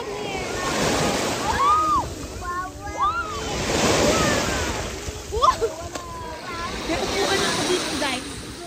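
Ocean waves break against a rocky beach on Boracay, a steady surging wash and splash close by, with people talking over the surf the whole time.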